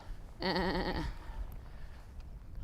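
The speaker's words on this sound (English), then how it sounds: "Hello, Mr. Sheep." A single sheep bleats nearby on a high Lake District fell ridge above Wasdale. The wavering call lasts about half a second, then gives way to quiet wind on the open hillside.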